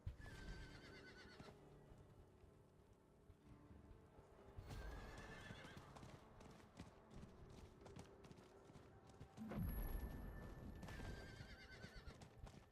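A horse in a video game whinnies loudly, with clip-clopping hooves trotting underneath and a second neigh later on, set against a faint electronic background.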